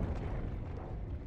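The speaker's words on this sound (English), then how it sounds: "There's been an explosion at the satellite management building." A building explosion in the video game Tribe Nine: a dense, sustained low rumble with broadband roar that fills the whole moment, loud and continuous without distinct separate blasts.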